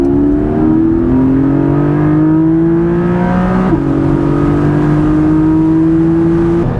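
A Porsche 718 Boxster GTS with its 4.0L engine revs out hard, pitch climbing steadily, dipping briefly at a shift, then rising again, loud and close with no talk.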